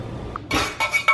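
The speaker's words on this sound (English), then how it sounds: "Now just going to stir it all together." A spoon clinks against a coffee cup while stirring, a few bright close taps and scrapes in quick succession.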